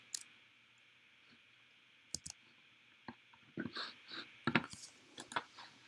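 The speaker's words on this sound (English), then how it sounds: "Hit Enter or right-click" Sharp computer mouse clicks while drafting in AutoCAD: a couple of isolated clicks, then a quicker irregular cluster of close, crisp taps over a faint steady hum, with no talking.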